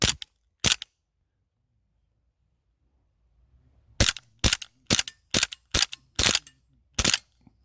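Single shots crack from a SIG 229 airsoft gas pistol at an outdoor range on a cold day: two sharp reports, a long pause, then six more evenly spaced snappy pops, close and loud.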